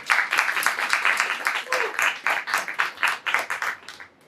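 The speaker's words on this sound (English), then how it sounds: "You can applaud." Audience members clap at a Web3 project pitch event, with a short burst of applause whose claps rise and fall in a fairly steady rhythm, and a voice heard partway through.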